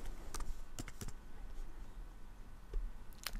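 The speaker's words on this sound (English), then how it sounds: "I typed in game company" Fingers type on a computer keyboard: a handful of crisp, close clicks in short irregular clusters over faint room noise.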